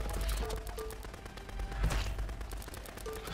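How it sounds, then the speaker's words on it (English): Rapid pistol gunfire in the video game Shotgun Farmers, a dense stream of repeated shots layered over a steady game soundscape with continuous background noise. "Trusty pistol!"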